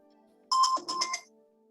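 A single two-tone electronic chime rings out clearly at the 9:30 market open during a live NAS100 trading session, heard alone over quiet background hum.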